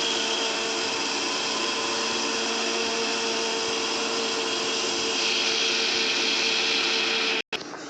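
An electric mixer grinding spices into a paste for ghugni, running as a steady, loud whirring drone that cuts off abruptly near the end.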